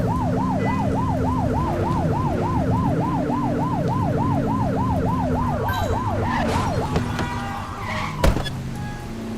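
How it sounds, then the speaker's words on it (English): A police car siren in The Precinct, a police video game, wails in a rapid rising-and-falling cycle over engine rumble for about seven seconds, then cuts off, followed by scattered clatter and a sharp bang. "Remember to turn your siren on"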